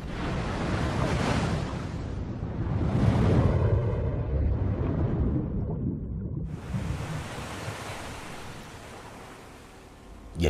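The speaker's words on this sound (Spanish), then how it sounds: "la fuerza del mar en la playa San Pedro, al sur de Lima, era muy poderosa" Powerful sea waves at San Pedro beach, south of Lima, roar as a loud, continuous wash of surf with rising and falling swells, close and enveloping, with no voices.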